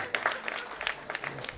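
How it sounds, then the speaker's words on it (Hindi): Audience applause at a Hindi comedy poetry event, a short burst of scattered clapping that is fairly faint and uneven, with some crowd noise mixed in. "तालियां, जोरदार तालियां।"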